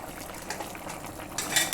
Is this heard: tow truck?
no